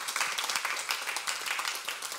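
Audience applause at a church talk, many hands clapping in a lively, uneven patter that stays strong and close for the whole stretch, with no speech over it.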